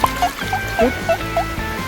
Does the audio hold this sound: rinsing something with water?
yes